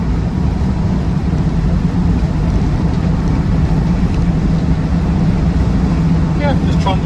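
A Land Rover Defender 90 TD5 drives along with a steady, even diesel drone and road rumble inside the cabin, while someone talks over it.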